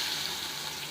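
Onions added to hot oil for an eggplant thokku, giving a steady, close hiss of frying with no talk.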